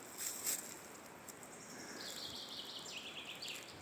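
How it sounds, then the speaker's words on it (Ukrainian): Birds chirp and sing in a Carpathian mountain forest, with bright high calls scattered over a soft, steady background hiss, faint and fairly distant throughout. "насолоджуйся співом пташок, шумом річки, красою карпатських гір і лісу"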